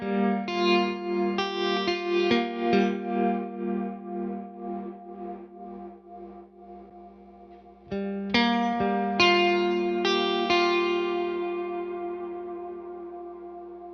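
Electric guitar through a Tone King Imperial tri-tube preamp rings out in lush ambient reverb, with strummed chords and picked notes blooming into long washy tails that fade before a fresh burst of chords, alone.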